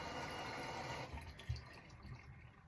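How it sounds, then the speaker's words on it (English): Water poured onto a Japanese natural whetstone used for honing a razor, a soft, steady liquid wash with a small splash partway through, heard alone and close. "Let's put a bit of water on it."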